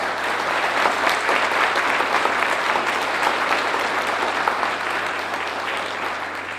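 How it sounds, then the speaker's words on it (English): The audience at the ACC Celebration of Excellence 2021 alumni awards gives the nominees a round of applause, a thick, sustained wash of clapping that stays loud and fades gently toward the close. "please let's give all the nominees a round of applause"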